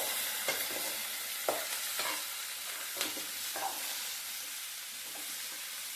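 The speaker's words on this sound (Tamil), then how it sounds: "இப்போ இது எல்லாத்தையும் நல்லா வதக்கிடலாம் லோ ஃப்ளேம்லேயே வச்சுப்போம்" Onions and a handful of coriander leaves sautéing in a pan over a low flame for a tomato-free onion chutney: a steady close sizzle with scattered spoon scrapes and stirring knocks.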